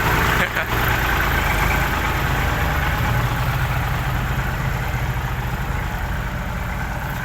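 A loud, steady tractor engine idles close by, a continuous low rumble with no break and no voices.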